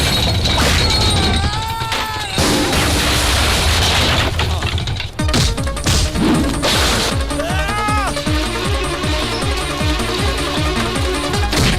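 Sharp gunshot bangs and crashes burst through dramatic music with whooshing effects in a Hindi film action scene, loud and close, in a busy mix.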